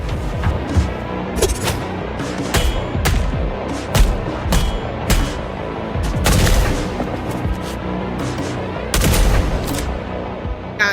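Sharp, loud gunshots crack repeatedly in the video game Replaced, irregular single shots and clustered bursts with booming impacts across a dense action soundscape.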